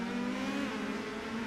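Indy Pro 2000 open-wheel race cars in the iRacing sim at Laguna Seca give a steady, loud, high-pitched engine drone with sustained revs and no break.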